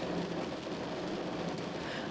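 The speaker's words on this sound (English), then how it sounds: "even the heavens seemed to open up in devotion, showering the city with rain" Steady rain pours over a city during Durga Puja, a dense, even hiss of drops striking surfaces with no voices, constant and fairly close throughout.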